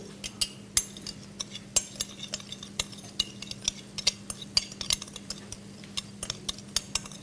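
A utensil stirs pizza dough dry ingredients, including baking powder, sugar and dessert yeast, in a bowl. It gives a quick, irregular series of close clinks and scrapes against the bowl over a faint steady hum, with no talk.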